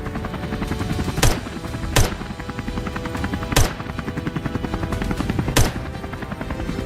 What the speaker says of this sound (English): The helicopter roared like a beast, soaring straight ahead